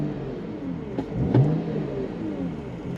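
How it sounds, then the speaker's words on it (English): A BMW 335i E93 LCI with a straight-six engine idles, then takes one quick throttle blip that climbs to about 3000 rpm before settling back. The engine is close and clear, with no voices. "Just a little blip on the accelerator pedal and it really revs up to 3000"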